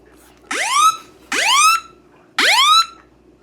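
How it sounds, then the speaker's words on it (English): A phone alarm sounds three times, each a loud rising electronic chirp lasting about half a second, separated by short pauses, over a faint background hum. "Apparently we're setting off alarms on my phone."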